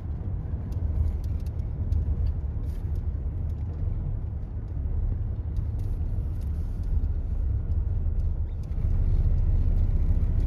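Cars and other vehicles heading to the Pandharpur pilgrimage pass on the road as a steady, close, low traffic rumble that swells louder near the end, with no clear talk.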